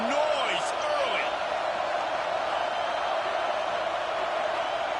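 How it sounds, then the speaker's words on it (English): A large crowd roars at a UCLA college game, a dense, steady wall of cheering and noise that holds for the whole stretch, with a commentator's voice talking over it. "This crowd bringing the energy and noise early."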